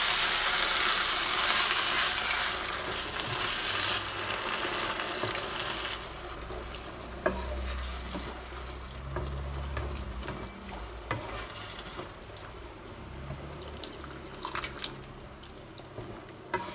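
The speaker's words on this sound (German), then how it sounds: "Machen ein bisschen Wasser dazu." Water hits a hot wok of Asian stir-fry on a grill, erupting into a loud hissing sizzle that gradually settles into quieter bubbling and crackling, with occasional utensil clicks and no talking.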